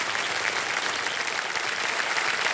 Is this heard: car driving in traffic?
no